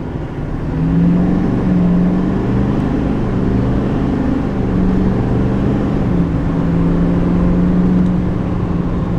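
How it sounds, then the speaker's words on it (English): A 2020 Chevy Silverado 3500 pickup with a 6.6-liter Duramax diesel accelerating on a road, its heavy engine drone rising in steady pitch sweeps as it pulls through the gears, loud and close throughout. "hopefully I can give you guys a quick acceleration"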